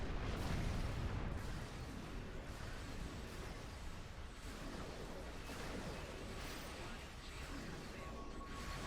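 Ships blowing up in the Star Trek Online space game, a dense continuous roar of booms and bursts with a heavy low rumble at the start, layered over busy game noise.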